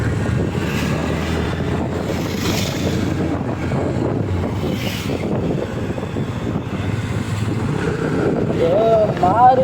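A Maruti Suzuki WagonR car drives through windy weather, with steady road and engine rumble under loud wind buffeting against the microphone throughout, and a voice speaking faintly in the background.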